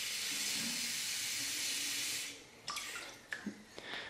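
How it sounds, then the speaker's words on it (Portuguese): Tap water runs steadily into a glass bottle for about two seconds, a broad rushing hiss, then stops, leaving a few close knocks and clinks of the glass. "Eu vou usar aqui a torneira, vocês podem ver, e vou encher a garrafa de água até a altura que eu desejo."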